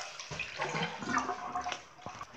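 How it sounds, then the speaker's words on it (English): Bathtub water drains in a steady, quiet gurgling rush for a couple of seconds, with no voices over it. "Drain the water."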